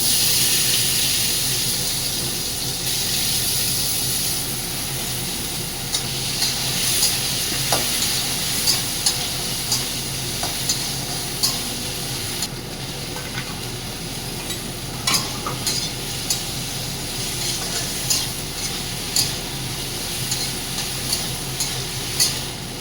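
Potatoes frying in oil with a dry red chili and panch phoron, a dense continuous sizzle with scattered light clinks of stirring that grow more frequent toward the end.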